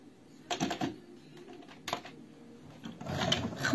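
A sewing machine stitching a vintage bag at the presser foot runs in short bursts, a few quick mechanical rattles separated by pauses, fairly quiet and close.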